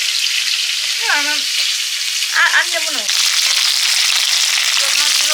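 Food fries steadily in a pan with a constant hissing sizzle, while a few short spoken remarks come and go over it; the fried pieces are for a mango and snakehead fish curry.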